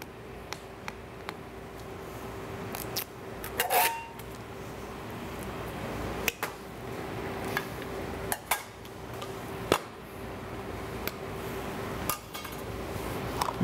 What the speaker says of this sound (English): So I'm going to open the canister.